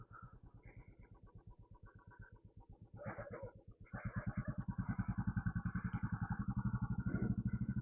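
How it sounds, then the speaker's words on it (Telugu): A restored Royal Enfield-style Classic 500 single-cylinder motorcycle thumps steadily on a night test ride, its rhythmic exhaust pulses close and loud, growing stronger as it accelerates about halfway through. "ఈరోజు అయితే మనం క్లాసిక్ 500 బైక్ని టెస్ట్ డ్రైవ్కి అయితే తీసుకుని వెళ్తా ఉన్నాము"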